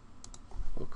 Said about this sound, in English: We'll click here to install the theme.